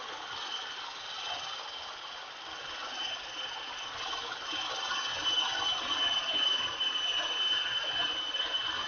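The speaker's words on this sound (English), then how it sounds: "Disconnecting my grill to my grinder, my barley crusher." A barley crusher grain mill grinds malt for home brewing, giving a steady rattling, crunching mechanical churn that runs continuously throughout at moderate level, slightly louder toward the end, with no talk.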